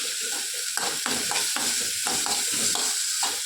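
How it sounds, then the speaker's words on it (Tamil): A tomato and chilli chutney mixture, salted, sautéing in a pan, giving a constant hiss of sizzling oil broken by rhythmic scraping strokes of a spatula, close and steady, without talk. "கொஞ்சமாக உப்பு சேர்த்துக்கலாம் நல்லா வதங்கட்டும்"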